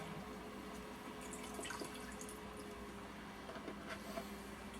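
A steady trickle of isopropyl alcohol pours into a bucket, with soft splashing and faint drips over a constant low background hum.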